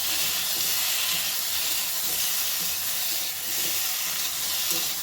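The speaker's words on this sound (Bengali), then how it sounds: "গ্যাসের ফ্লেমটা একদম হাইতে করে সামান্য একটু নাড়াচাড়া করে ভেজে নেব।" Constant hiss and sizzle of taro frying in a pan with salt and turmeric over a high gas flame, steady and close throughout with no voices.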